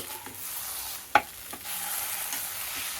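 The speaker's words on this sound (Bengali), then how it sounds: "এটাকে নেড়ে দেবো, নেড়ে এর সঙ্গে মিশিয়ে দেবো।" A taro leaf dish with coconut being stirred in a pan, a steady low sizzle with one sharp utensil clack and a couple of softer scrapes, close and without any talking.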